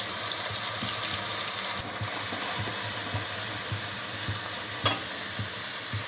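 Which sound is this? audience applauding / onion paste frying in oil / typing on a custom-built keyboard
onion paste frying in oil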